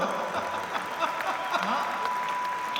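A crowd at a Marwari comedy poetry gathering breaks into sustained applause, a dense continuous patter of many hands with faint voices mixed in.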